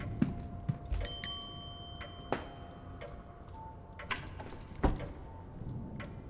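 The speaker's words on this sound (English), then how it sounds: "I do have to ring the bell" A bell rung in the video game The Seance of Blake Manor gives a bright metallic ring with a lingering tone, followed by scattered faint ticks and clicks in a quiet room.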